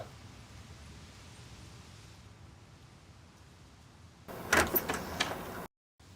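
Police opening a door in a dubbed Hollywood action film: a muffled thud followed by a brief rattling and scraping as the door swings, after a stretch of quiet room tone, ending in abrupt silence.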